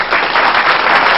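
Applause from a studio audience at a singing talent competition in Tanzania, dense steady clapping filling the whole moment at close range with no voices over it.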